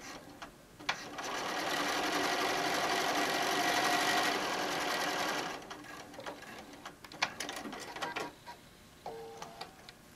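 A sewing machine stitches down the sides of a fabric wine bottle bag in one steady, fairly quiet run of rapid buzzing lasting several seconds, followed by scattered handling clicks and rustles.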